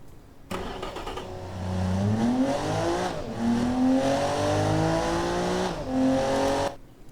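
A simulated car from the game Automation laps a race track, its engine revving up through the gears with rising pitch, dropping on shifts, then climbing again, steady and close before cutting off.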